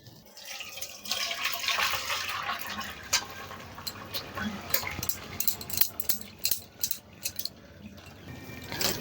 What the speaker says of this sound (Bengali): অল্প একটু জল দিয়ে ধুয়ে নিচ্ছি, তাহলে কি ভিনিগারের গন্ধটা চলে যাবে।